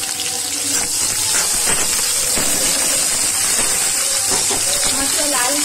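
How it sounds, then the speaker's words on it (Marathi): Onion sautés in a hot pan until browned, a loud, steady sizzling hiss that holds from start to finish with faint scraping underneath. "चांगलं लाल होईपर्यंत आपल्याला परतवून घ्यायचं आहे"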